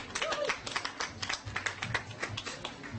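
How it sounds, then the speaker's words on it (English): An outdoor audience at a Sikh Day gathering in Carteret claps steadily for a few seconds, a dense patter of hand claps of moderate loudness with no talk over it. "Please give him a big round of applause, Mr. Mayor Reiman."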